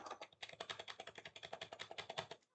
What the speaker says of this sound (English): even though I am typing, still it is not getting typed